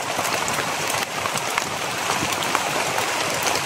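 Steady, fairly heavy rain falls outdoors in a dense, even hiss that stays constant throughout, with no voices.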